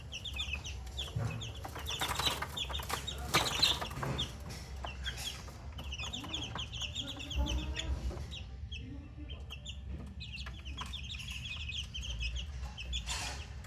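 Young 25-day-old crossbred chicks cheep in a flock, a steady stream of thin high peeps repeating over a low, quiet background rumble.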